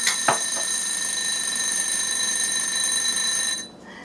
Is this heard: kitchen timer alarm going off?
yes